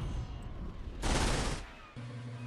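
Gunfire in a Black Sun Campaign video game, a dense burst of rapid shots lasting about half a second over a steady background drone.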